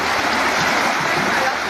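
Tsunami water after an M7.8 earthquake in Mindanao rushes in a steady, loud, broadband roar that holds without pause from start to finish.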